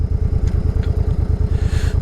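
A motorcycle idling close by, its engine beating in a steady, loud, rapid rhythmic thump with a slight clatter, no talking.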